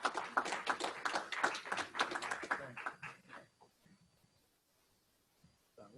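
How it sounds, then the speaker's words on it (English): Applause for a retiring firefighter at a City of Florence fire recognition ceremony, a modest group clapping quickly and fairly near for about three seconds before thinning out into near silence. "Give him a round of applause."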